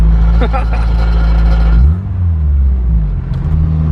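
A turbocharged Acura Integra DA9 engine runs close by with a deep, steady idle drone, briefly dipping in pitch midway before settling back into a loud, even hum; a person talks over it.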